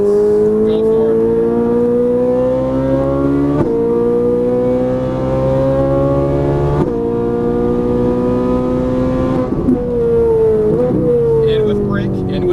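Ferrari 458 Italia V8 engine at full cry on a race track, a loud sustained high-pitched howl rising through the revs with sharp drops at each gearshift across several upshifts and downshifts.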